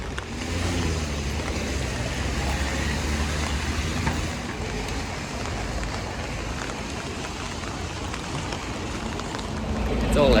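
Heavy rain pours steadily in an outdoor street setting, a dense continuous wash of noise lasting throughout, with low vehicle rumble underneath and a swell at the end.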